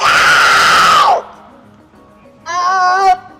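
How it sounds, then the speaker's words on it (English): A woman screams into a megaphone at a street scene in Washington, DC, giving a loud, harsh amplified wail, a pause, then a second shorter amplified cry. "This lady just arrived and she is screaming in the megaphone."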